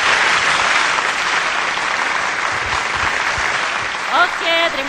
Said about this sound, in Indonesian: Jadi mari kita tepuk tangan untuk kita yang terus setia dan sudah hadir ya